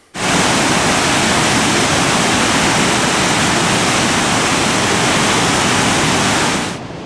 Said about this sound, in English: so I'm here right by the river. This just goes down to the waterfall.